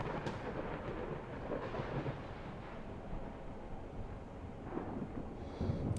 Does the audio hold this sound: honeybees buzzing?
no